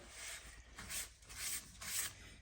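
Rhythmic scraping strokes, about four back-and-forth passes, close and fairly quiet, as an axe is sanded with abrasive paste.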